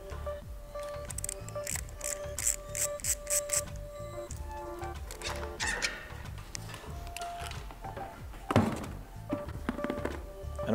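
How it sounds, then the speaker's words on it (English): Drive unit being removed from the shaft of a Vexve DN150 ball valve, a series of close metallic clicks, thunks and scraping handling noises with rattling bursts and a louder clunk near the end, no talk. "So now we can remove the drive unit."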